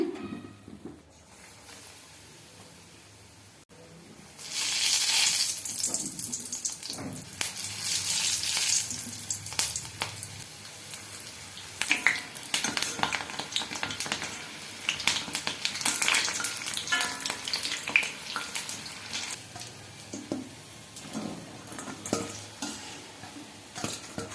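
Battered chillies for street-style bun mirchi sizzle steadily in hot oil, a continuous close frying hiss with occasional stirring and clinks of utensils against the pan, no talking.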